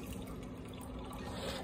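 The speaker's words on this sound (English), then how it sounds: "we're gonna go ahead and fill up the water here" Water runs steadily into a coffee maker's reservoir, a soft continuous filling trickle heard close up and alone.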